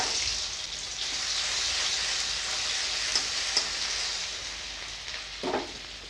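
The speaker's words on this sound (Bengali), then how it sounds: "তেলের মধ্যে গোটা গরম মশলা দিয়ে দিচ্ছি একটা তেজপাতা রসুন বাটা" Whole garam masala, a bay leaf and garlic paste sizzle steadily in hot oil, a dense close hiss running throughout with a few light stirring knocks and a brief clatter near the end.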